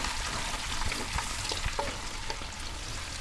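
Aromatics sautéing in a pan, a steady broadband sizzle with occasional soft scrapes and clicks of stirring, close and continuous throughout.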